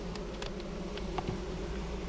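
A steady, low buzz of honeybees at a nucleus hive fills the whole stretch, with faint rustling and small ticks over it, humming close by.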